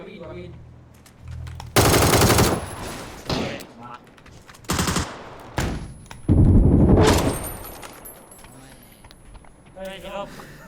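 Loud bursts of rapid automatic gunfire in several volleys in the video game PUBG, separated by short pauses, with voices speaking in between.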